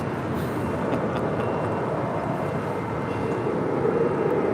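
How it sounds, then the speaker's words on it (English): Steady broadband roar of an arriving JetBlue Airways Airbus A321 jet at LAX, loud and continuous with no talk, heard as a constant rushing rumble. "That is JetBlue Airways Flight 1373 coming in from Newark and an A321"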